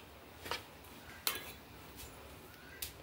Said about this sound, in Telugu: అది ఇప్పుడు లేదు కాబట్టి నేను ఊరికట్ట స్పూన్తో కోట్ చేస్తున్నా